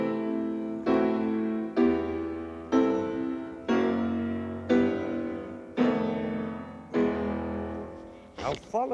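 Orchestra playing the Brahms Fourth Symphony finale theme in full harmony, eight sustained chords struck one after another at an even, stately pace, each swelling then fading, with a brief voice starting at the end.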